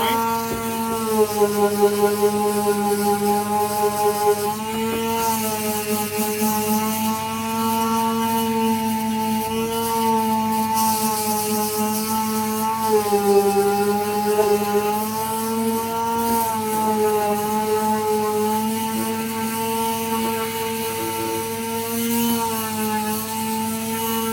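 A power sander works over a handmade wooden boat paddle with 100-grit sandpaper, a steady loud electric whine and buzz that holds nearly unbroken throughout, shifting slightly in pitch as pressure changes.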